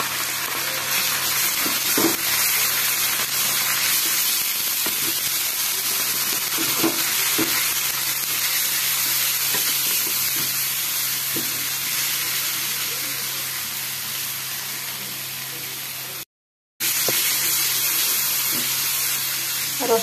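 Ground chilli, coriander, turmeric and cumin with ginger-garlic paste sautéing in a pan: a steady, close hiss and sizzle with occasional stirring scrapes, broken by one brief cut-out near the end.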